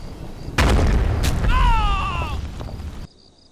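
An artillery shell blast in Combat Mission: Red Thunder, a single heavy close boom followed by a rumbling decay, with a whistling, warbling tone trailing after the impact.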